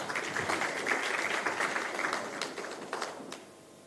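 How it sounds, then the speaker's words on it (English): A conference audience at a mine investors' event in Bengaluru claps steadily for a few seconds before the applause thins out into scattered claps. "I need some claps for this."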